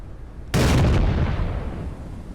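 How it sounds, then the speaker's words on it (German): A naval gun salvo fires in the warship game Battleship Command during a Scharnhorst convoy hunt, one heavy, loud boom that breaks sharply out of a steady background rumble and then rolls away slowly over about two seconds. "Geben wir unseren ersten 3 Schüsse ab."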